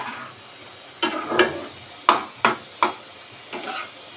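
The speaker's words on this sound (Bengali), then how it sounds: "এটা একটু সমানেই নাড়তে হয়" Dried loitta fish mixture stirred in a pan for a spicy home recipe, with a few scattered scrapes and clacks of the spoon against the pan, sharp and close, spaced irregularly over low background hiss.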